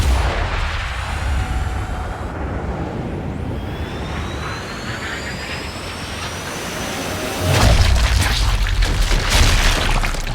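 Long-distance sniper rifle fire in the video game Sniper Elite 5: a heavy booming report with a rolling low rumble and a whistling tail, then a second loud blast near the end, without speech.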